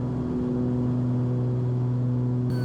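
Cessna 340 twin piston engines droning steadily in level cruise at 5,500 feet, a loud constant hum with strong tonal bands filling the cabin, no talk over it.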